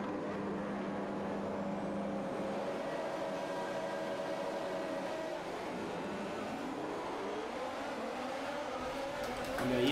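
Formula 1 cars from the F1 2021 game pack together at the start of the Australian Grand Prix, a steady, loud engine drone with rising pitch sweeps as they accelerate away, continuous for the whole stretch.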